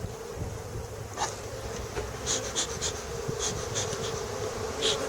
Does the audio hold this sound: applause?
no